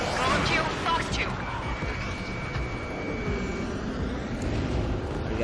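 Fighter jet in the flight combat game Ace Combat 7: Skies Unknown, a steady broadband engine roar holding loud and continuous throughout with a brief high whine partway, like in-game flight audio.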